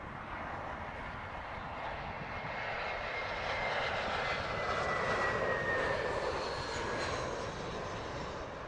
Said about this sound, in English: KC-135R Strato tanker will be going over us.